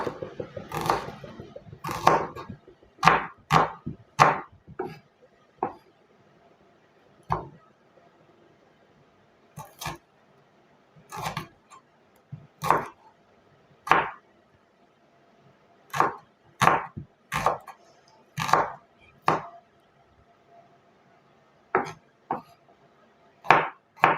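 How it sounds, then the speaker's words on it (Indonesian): A knife slices small pieces of spice ingredients on a cutting board in sharp, close chops, coming in uneven clusters separated by short pauses, with no talking over them. "di sini kita iris-iris kecil supaya gampang dihaluskannya ya"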